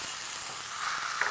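Ground spice paste sizzles in a hot pan as water lily stems are cooked with prawns, giving a close, continuous hissing fry that brightens slightly near the end.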